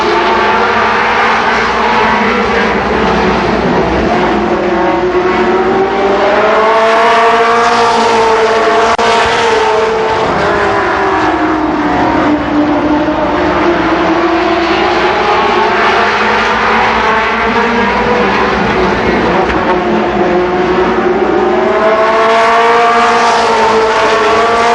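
Super late model stock cars racing at Columbus Motor Speedway in 1992, a loud continuous engine roar rising and falling as the pack sweeps past, with layered engine tones swelling and fading throughout.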